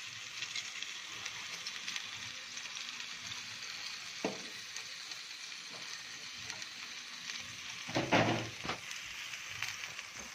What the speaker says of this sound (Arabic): وبعدين هتحطوا البصل فوق، هتشوحوا كل ده بقى مع بعض